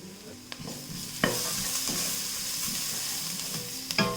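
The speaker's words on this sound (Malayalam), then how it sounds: "1 ടീസ്പൂൺ കായപ്പൊടിയും കൂടിയിട്ട് നന്നായിട്ടൊന്ന് ഇളക്കി കൊടുക്കാം" A teaspoon of asafoetida powder is stirred into a pan of frying spices for spicy tomato rice, giving a continuous hot sizzle with a few scraping stirs and light clinks of the utensil.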